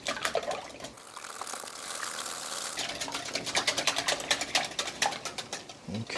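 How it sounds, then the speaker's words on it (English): Whisking eggs, milk and cream together in a bowl, a quick run of light rhythmic clicks and liquid sloshing that grows steadier and more regular toward the end. "let's just give those a nice whisk"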